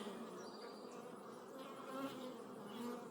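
Honeybees buzzing at an open hive during an inspection, a soft, steady drone of many bees close by with a few individual bees passing, no talk.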